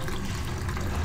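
Tap water pours steadily into a bucket beside a toilet room, filled to wash a tricycle, a continuous close rushing and splashing with no pauses and no one speaking.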